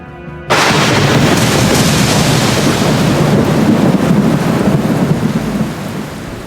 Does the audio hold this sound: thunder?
yes